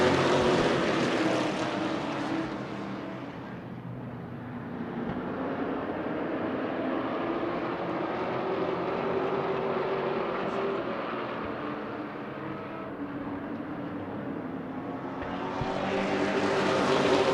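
Pro late model race cars roar around the Las Vegas Bullring in a 50-lap race, a loud, dense engine drone swelling as the pack passes close, easing slightly, then building again.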